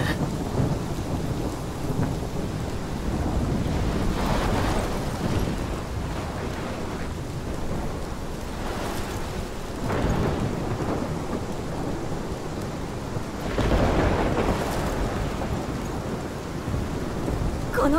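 Thunderstorm in the video game Life is Strange, with heavy rain pouring on surfaces and several deep rolling thunder rumbles swelling and fading, loud and continuous without talk.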